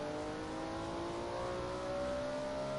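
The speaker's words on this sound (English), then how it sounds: "A late apex on really, you can bring in the throttle." A BMW M1 Procar race car accelerates hard out of a turn at Road America, its engine note climbing steadily in pitch, heard from inside the car with no talk.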